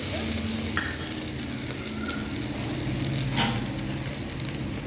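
Whole garam masala spices, ginger and garlic frying in oil for bagara rice, a constant loud crackling sizzle with a few faint clinks.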